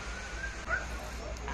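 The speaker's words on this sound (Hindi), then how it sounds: "इसको मन लग रहा है ऐसे खड़े होके टांग फैला के खड़े होके भौंकने में।" A dog barks on a beach at night in South Goa near sea-facing huts, other dogs joining in; the barks sound moderate and somewhat distant over steady surf-like background noise and faint voices.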